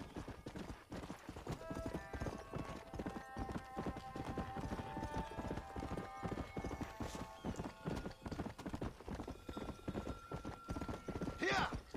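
A horse gallops in the Western video game Red Dead Redemption, with rapid, steady clip-clop hoofbeats running the whole time, a high whinny near the end, and a voice talking over the hooves.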